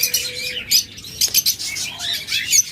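A pair of cockatiels gives bright, close chirps and short whistles in quick irregular bursts, with a brief flutter partway through.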